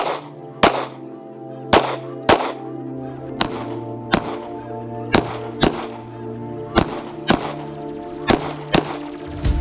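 Sharp pistol shots from a 365 XL fitted with a mini green dot sight ring out one at a time, about eleven loud cracks at uneven intervals, each with a quick ringing tail, and no one speaks between them.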